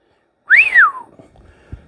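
A single loud rising-and-falling whistle, close and clear, followed by faint rustling in otherwise quiet surroundings.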